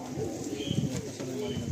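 Madrasi pigeons cooing in a loft, soft repeated low coos and some bird calls close by, with a person talking over them.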